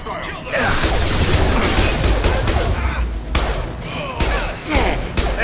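Dense, continuous gunfire and impacts from a Mass Effect battle, with loud overlapping shots and thuds throughout and voices mixed in.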